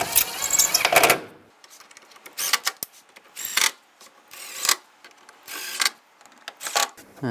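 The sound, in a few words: tightening screws on a Buick Enclave front bumper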